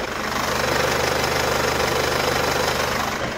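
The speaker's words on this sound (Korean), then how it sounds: "그럼 바로 엔진 사운드 담아드리도록 하겠습니다." Infiniti Q50 2.2 diesel engine idling with the hood open, a steady low rumble with a fine rhythmic diesel clatter that holds even and close throughout, with no voices.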